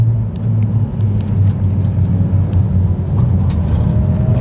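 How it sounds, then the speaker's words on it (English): Tires of a VW Scirocco 2.0 TSI roar on the Nurburgring at low speed, a steady loud rumble with engine drone inside the car, continuous and close, with no talking. "Tires are very loud."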